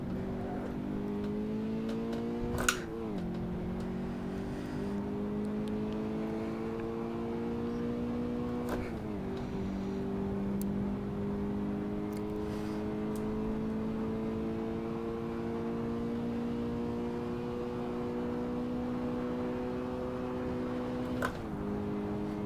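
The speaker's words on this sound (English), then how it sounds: "So you can rev it up." A Toyota GT86 engine in Assetto Corsa, driven at Road Atlanta, holds a steady high-revving drone that climbs slowly, broken by brief blips and sharp shifts where the pitch drops and picks up again, loud and continuous throughout.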